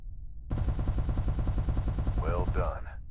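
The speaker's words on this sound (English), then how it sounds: "Now, activate your turret weapon group and fire away." Turret weapons fire rapidly at a target in the space game SB2, a loud steady stream of evenly spaced shots, with a voice speaking over the final moments.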